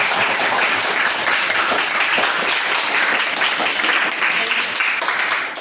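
A class of students applauding at the end of a coding and artificial intelligence lesson, a dense, sustained clapping that stays loud throughout, with faint voices mixed in.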